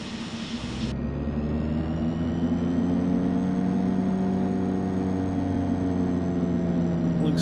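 A DHC-6-300 Twin Otter turboprop engine starts in Flight Simulator X, its whine rising and spooling up into a steady, loud drone that holds throughout.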